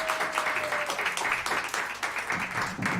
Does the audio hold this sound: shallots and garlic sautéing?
no